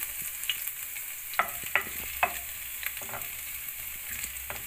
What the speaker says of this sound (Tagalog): After natin initin yung mantika, lagyan natin ang bawang.